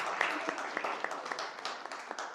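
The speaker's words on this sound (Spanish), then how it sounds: "y muchísimas gracias por esos aplausos" Audience at a book fair applauding, a soft, fairly distant patter of many hands clapping, with a voice faintly audible underneath.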